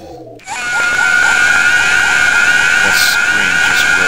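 A sustained, piercing scream from a character in the Nintendo video game The Legend of Zelda: Majora's Mask, starting abruptly after a brief quieter moment and holding loud and steady to the end.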